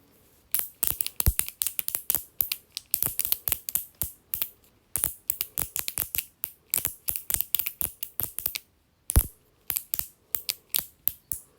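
Rapid bursts of sharp plastic clicking from a wacky track fidget toy, close and fairly loud, coming in quick uneven runs with brief pauses between them.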